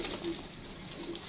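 Pigeons coo softly on a rooftop loft, a few low murmuring calls against a steady background hum.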